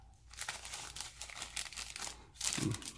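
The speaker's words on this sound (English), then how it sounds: "Plastic bags." Plastic bags crinkle and rustle up close while a board game is unboxed, a series of soft crackling bursts with one louder crumple near the end, heard alone and fairly quiet.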